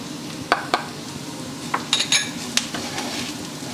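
Masala spices fry with garlic, ginger paste and onion in a pan, giving a steady low sizzle with scattered clinks and scrapes of a utensil on metal.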